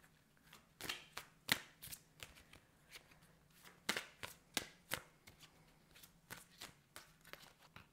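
A deck of angel oracle cards (Healing with the Angels) is shuffled in a quiet room, giving a series of crisp riffling and slapping bursts, irregular and close, with no voices.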